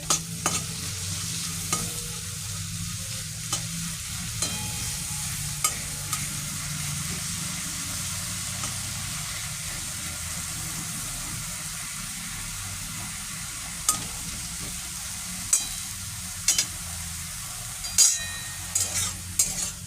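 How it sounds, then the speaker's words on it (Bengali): Shrimp fry lightly in a home kitchen pan for a Bengali bottle gourd and prawn dish, giving a steady sizzle with sharp utensil scrapes and clinks of stirring coming in bursts toward the end, near and fairly loud, no talking. "চিংড়ি মাছটা এবার আমি তুলে নেব, হালকা ফ্রাই হয়ে গেছে।"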